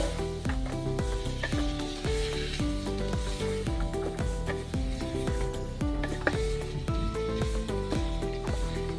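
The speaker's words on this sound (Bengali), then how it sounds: "আমি কুমড়ো আর আলুটা 1 মিনিট মতো নাড়াচাড়া করে বেশ কষিয়ে নিয়েছি।" Fried potato and pumpkin pieces are tossed in a pan over medium heat, giving a steady, soft sizzle under repeated rhythmic scraping strokes of a spatula. Tonal music plays in the background.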